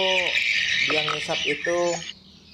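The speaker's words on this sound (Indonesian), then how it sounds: "Suara itu saya kasih efek suara, efek-efek yang disukai oleh walet ya." Chirping swiftlet-luring call played through a speaker at a swiftlet house with a black mosquito-net layout, with bright clustered twitters in short bursts over a steady high hiss, ending abruptly.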